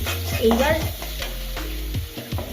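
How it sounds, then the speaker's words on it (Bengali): Spice paste frying in oil for a duck egg and cauliflower curry, crackling sizzle under loud scraping strokes of a spoon stirring the pan, close up and without voices. "ভালোভাবে কষিয়ে নেব মশলাটা"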